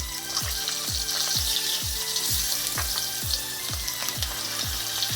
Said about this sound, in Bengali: দেখো এই তেলে এবার আলুগুলো ভেজে নেবো